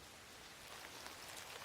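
Rain in an anime episode, a steady faint hiss of falling water with soft scattered patter, continuous and fairly distant, with no talking over it.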